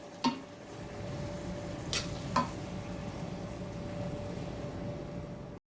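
Chana dal frying in a pan over a medium flame, dhaba style: a steady, close sizzle runs throughout, broken by a few sharp stirring scrapes and clinks, with no voices.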